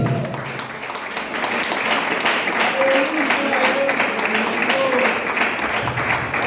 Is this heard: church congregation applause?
yes